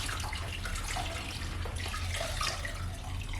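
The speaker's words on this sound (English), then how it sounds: "And this is the nice clean water we're using. Woo. And I'm just gonna rinse." Clean water runs steadily while 1970s mobile home kitchen cabinets are rinsed, a continuous close splashing and trickling with no talking.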